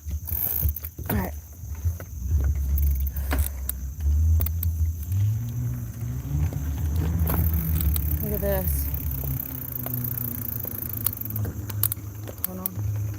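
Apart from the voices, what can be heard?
car passing on the road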